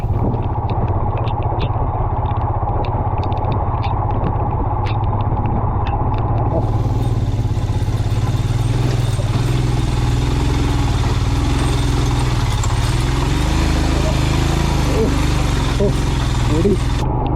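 A motorbike ridden standing up on a steep, slippery road in the Western Ghats near Kudremukh: a steady low engine drone with wind rush close at the mic, holding at a constant loud level throughout.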